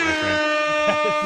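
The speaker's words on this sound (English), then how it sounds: "gets an air horn for that trade" A loud, sustained air horn blares with a rich, buzzing tone, while a voice talks faintly underneath.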